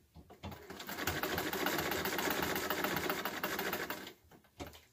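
A treadle sewing machine stitching steadily for about three seconds, a fast even mechanical whir and needle patter that starts up, holds, then stops, with a brief restart near the end.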